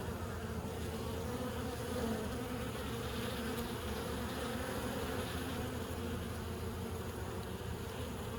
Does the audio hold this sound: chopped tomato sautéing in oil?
no